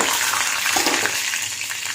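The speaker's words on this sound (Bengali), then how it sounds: "এবার মশলাটা একটু ভাজা ভাজা যখন হবে" Whole cumin, black pepper, chili and a bay leaf frying in hot oil for vegetarian ghugni, a close, continuous sizzle with soft crackles and a light stirring scrape, no talk.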